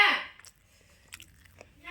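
Close, wet chewing and crunching of green chili come in short bursts, with a loud breathy exhale at the start and brief crisp bites later.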